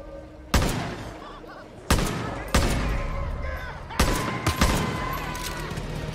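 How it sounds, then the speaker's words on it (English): Loud gunfire from the video game Far Cry New Dawn, with several sharp, close shots about a second or two apart over a busy game soundscape, plus a faint voice in the background. "I'm gonna shoot him at the head."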